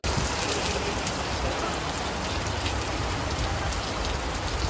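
Heavy rain pours down outdoors on a city street in Pune, a dense, loud, steady hiss of drops hitting surfaces that continues unbroken with no voices.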